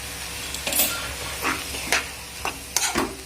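A spoon stirs a cheese-toast filling seasoned with salt and black pepper in a hot pan. Intermittent scraping strokes come in uneven bursts over a soft background sizzle, close and alone.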